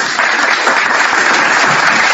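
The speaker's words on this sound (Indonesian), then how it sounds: "saya tepuk tangan dulu" Brief, loud burst of dense clapping from a church audience, steady and close for the full two seconds with no talk over it.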